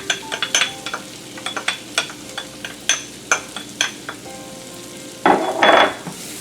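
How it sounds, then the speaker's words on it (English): Half a shallot cooks in a pan for a bordelaise sauce, with scattered spoon clicks and scrapes against the pan before a louder burst of sizzling near the end. "we're just going to render the shallot down until it's almost translucent"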